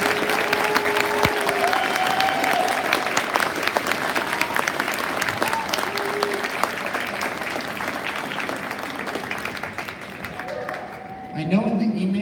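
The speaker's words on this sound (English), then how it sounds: "Let's give a round of applause to all of our 6th grade dancers." An audience at a spring band concert applauds sixth grade dancers, loud continuous clapping for nearly twelve seconds, with a few voices and cheers mixed in near the end.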